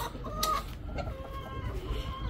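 Chickens cluck and call nearby in a busy, irregular flurry, with one sharper squawk standing out; no one speaks.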